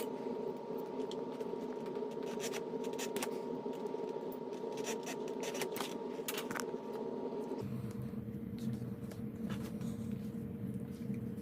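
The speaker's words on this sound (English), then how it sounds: "So just take your pocket knife, always cut away from yourself, and just get up under there and get a good groove going." A pocket knife cutting and scraping through a glued rubber grip on dirt bike handlebars, giving a series of short close scratches over a steady background hum.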